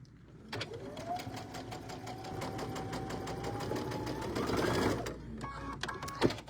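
A home sewing machine stitches quilting fabric for a tabletop banner, its motor running in a steady rapid whir for several seconds, close and prominent, then stopping abruptly, followed by a few short clicks and bursts.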